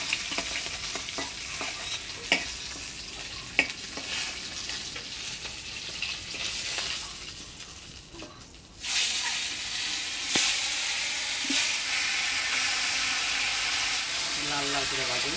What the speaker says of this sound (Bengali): লাল লাল করে ভাজি। তো কড়া করে ভাজতে হবে।